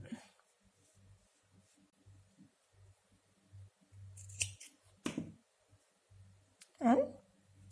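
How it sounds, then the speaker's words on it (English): Scissors snip close up through yarn from a crocheted flower, a couple of quick crisp cuts standing out over a quiet background with faint low hum. "We will do a chain 1 and cut the yarn."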